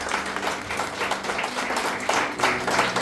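Church congregation claps together for a few seconds, a dense moderate patter of hands with faint voices mixed in.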